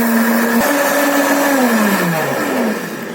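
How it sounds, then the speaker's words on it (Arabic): An electric blender whirs loudly for a few seconds, mixing iced coffee with caramel sauce, its motor pitch dipping and wavering as the contents blend, then tapering slightly at the end. "بعد كده هنغطي وهنسيبه يتضرب لمدة 10 ثواني."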